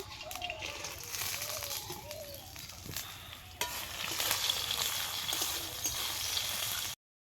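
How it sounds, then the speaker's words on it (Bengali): Bori, lentil dumplings, fry in mustard oil with a steady close sizzle and occasional stirring scrapes, without talk. "লাউ শাকে বড়ি দেবো, সেজন্য বড়িটা ভেজে নেবো।"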